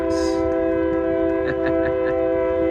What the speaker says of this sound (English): We got a good old train coming in here.